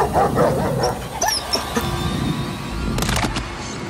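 A small dog yips and barks excitedly over a loud, busy background of noise and clatter.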